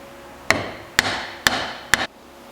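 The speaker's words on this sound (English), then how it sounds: "So the best way to do that is with a block of wood and a hammer" Four sharp, evenly spaced blows from a small metalworking hammer onto a hardwood block held against a steering column, about half a second apart, each ringing briefly, close and clear with no talk.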